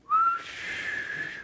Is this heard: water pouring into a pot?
no